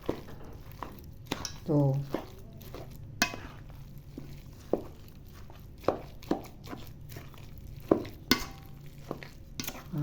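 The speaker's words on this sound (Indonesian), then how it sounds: "aduk-aduk lah ya sampai rata" A spoon stirs a banana and grated coconut mixture in a bowl with intermittent scraping and soft knocks at an uneven pace, close up, and a voice speaks briefly now and then.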